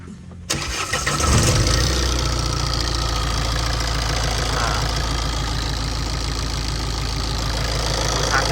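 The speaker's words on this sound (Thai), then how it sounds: "เดี๋ยวเรามาติดเครื่องดูกันนะว่าดูดไหม" A Tata diesel engine cranks and catches after a sensor replacement on the intercooler pipe, then settles into a loud, close, steady idle with a rough low rumble that continues to the end.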